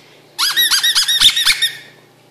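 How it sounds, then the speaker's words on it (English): A dog's squeaky toy squeaks about ten times in a quick, steady rhythm, loud and close, with no other sound around it. "Give me that squeaky."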